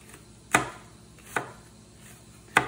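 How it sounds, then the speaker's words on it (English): A knife chops an onion on a cutting board in three crisp, evenly spaced strokes, close and clear with no talking. "we're gonna chop our onion up"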